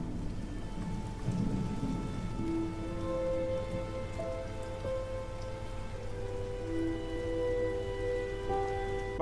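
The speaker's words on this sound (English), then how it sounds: "it's nighttime and it starts raining" Steady rain with rolling thunder at night in the horror game Silent Hill 2, a continuous wet hiss with low rumbles and soft tonal music drones layered underneath, fairly loud and unbroken throughout.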